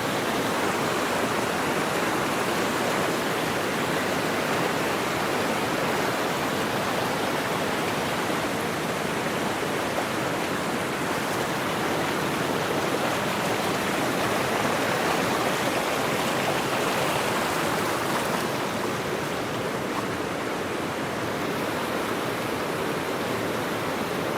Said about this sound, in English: Yeah, that little creek. Gotta be all snow runoff.